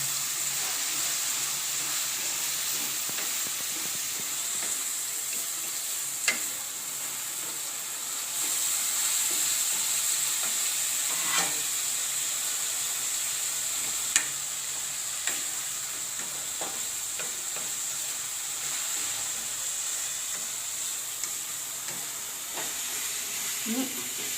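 Tomatoes softening with cardamom pods in a pan, a quiet steady sizzle and hiss with occasional stirring clicks and scrapes, no talking.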